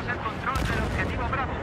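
Sniper rifle fire in Battlefield 4 on PC, a single sharp report landing a headshot, heard mid-distance within a dense, noisy battlefield din with constant background rumble.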